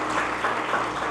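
A church congregation applauds during a sermon, a brief burst of steady, even clapping heard on its own without speech.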